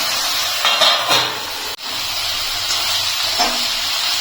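Water lily stems frying on high heat in a covered pan give a steady broad hiss and sizzle, with a sharp clack partway through and faint stirring scrapes.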